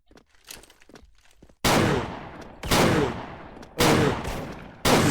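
Four heavy sniper rifle shots ring out in the game Special Force, each a loud sharp crack with a long decaying tail, spaced about a second apart after some quieter handling noise at the start.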